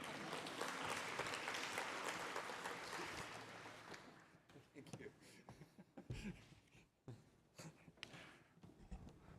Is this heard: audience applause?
yes